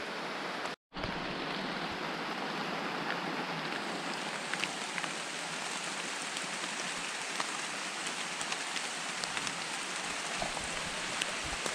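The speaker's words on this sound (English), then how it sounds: "It is really raining." Heavy rain from Tropical Storm Fay pouring steadily onto a stream and forest, a dense, even hiss of drops close by that continues without pause and without any voices.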